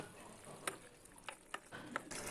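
Fish curry broth being ladled and stirred in a pan, Bengali machher jhol with chitol fish: faint, sparse scrapes and soft taps of a spoon over a low, steady simmering hiss.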